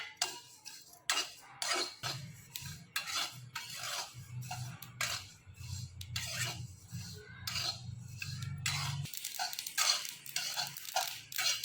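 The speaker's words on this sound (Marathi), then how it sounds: "सर्वप्रथम तीळ जे आहेत ते आपल्याला थोडं भाजून घ्यायचे आहेत." Sesame seeds are dry roasted in a pan for a linseed chutney, with a spoon scraping and stirring repeatedly against the metal in close rasping strokes, while a low hum runs underneath for much of the time.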